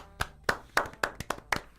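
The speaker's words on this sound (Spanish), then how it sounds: "pido a nosotros, en gesto medio narcisista, un leve aplauso de lo que hemos logrado" Light applause from a few radio hosts in a studio: about seven sharp, evenly spaced hand claps, close and loud, with no speech.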